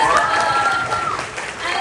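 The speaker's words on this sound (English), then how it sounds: "And yeah, applause." Audience applause at a Houston horror fan festival panel with the Terrifier cast, a steady mass of clapping that stays fairly loud and even throughout, with a voice speaking over it.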